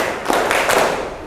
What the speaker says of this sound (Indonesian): Kalau kamu suka belajar, tepuk tangan.